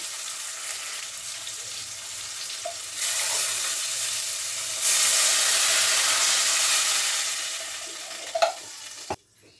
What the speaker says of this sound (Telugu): మంచిగా మంట పెట్టుకొని నీళ్ళు అయితే మరుగుతున్నాయండి